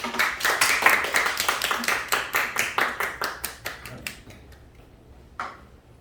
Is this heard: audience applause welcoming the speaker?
yes